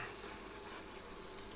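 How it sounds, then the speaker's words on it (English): Mushrooms fry in oil in a pan, alongside a roast partridge dish, with a soft, steady, even sizzle and no talk. "fry them, try and get a little bit, just a little bit of colour to them"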